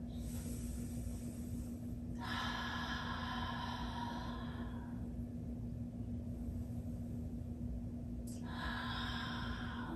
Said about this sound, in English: Big breath now.